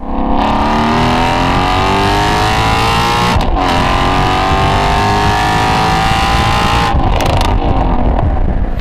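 A Ford Shelby GT350's exhaust, with resonator delete and X-pipe, roars loudly through two hard acceleration runs, the engine note climbing steadily with brief breaks at each gear change.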